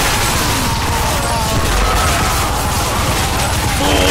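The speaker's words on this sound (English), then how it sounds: "Shit, man, there's so much explosion." Explosions and gunfire from the video game Bulletstorm, a loud, dense barrage of booms and crackling blasts that continues without a pause across the whole stretch.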